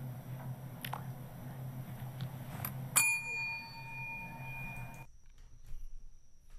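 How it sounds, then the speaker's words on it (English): A single bell is struck once and rings out clearly with a sustained metallic tone that decays over about two seconds, over a low room hum, then cuts off abruptly. "I'm gonna hit this bell."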